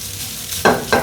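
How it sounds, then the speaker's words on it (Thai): Rice is stir-fried in canola oil in a pan: a low sizzle gives way to two sharp bursts of scraping and hissing as the grains are tossed, close and loud, with no talking. "ผมจะคั่วให้ข้าวมันหอมกระทะก่อน ให้ข้าวมันล้วนแตกตัวก่อน"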